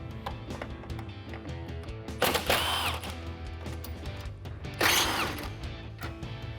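Two short power-tool bursts remove the 10mm bolts at the top of a 2014-2015 Silverado 1500 headlight, each a loud whirring spin, with quieter mechanical clicks and handling noise in between.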